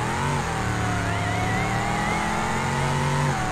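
Car engine in the driving game BeamNG.drive revving with a steady high whine, loud and continuous throughout with rising and falling pitch, no talking.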